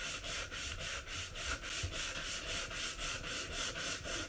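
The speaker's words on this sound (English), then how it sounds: "This is an old sanding block, but it's perfectly fine." Steady back-and-forth rasping of an old sanding block on a wooden Christmas frame, rhythmic strokes about four per second, close and continuous with no talk.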